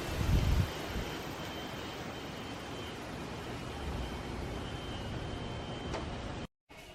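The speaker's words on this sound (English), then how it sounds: "It's very windy today too." Steady broadband wind rumble buffeting the microphone outdoors, constant throughout with a brief gust near the start and a short dropout at the end.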